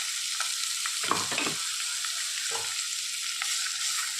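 Green chilies and a crushed spice mix stir-fried with yam in a pan, giving a steady bright sizzle broken by several low scraping stirs of a spatula, close and loud with no talking.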